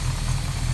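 A 1966 Plymouth Valiant convertible's 273 V8 idles steadily, a low, even rumble with a faint rhythmic exhaust pulse, close and continuous with no voices over it.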